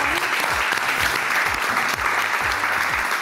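A talent show audience claps loudly and steadily for a contestant, the dense applause filling the whole moment, with faint voices underneath.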